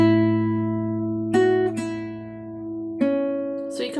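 Fingerpicked guitar melody with thumb-picked bass notes entering at the start of each two-bar phrase, a few clear ringing notes struck at a relaxed pace, close and moderately loud, with no voices.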